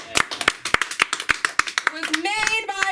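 Small audience at a comedy open mic clapping in distinct, rhythmic individual claps, fairly close and sparse, fading out as a voice starts talking near the end.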